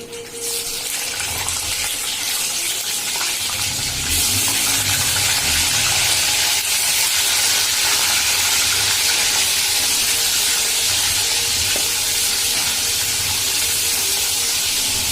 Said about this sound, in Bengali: চিকেনটা শেষ, এখন এটা আবার ভাজা হইব